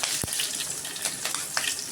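Long-cut green chilies hit hot oil with a steady, loud sizzle and frying hiss, punctuated by a few sharp crackles and pops, with no talking.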